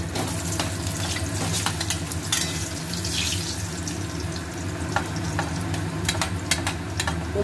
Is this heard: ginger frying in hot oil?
yes